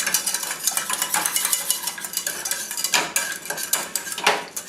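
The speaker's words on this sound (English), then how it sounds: "just take your whisk and mix this all up" A whisk mixes hot wing sauce ingredients, giving a steady run of quick metallic clinks and scrapes against the container. The sound is close and fairly busy, with no talking.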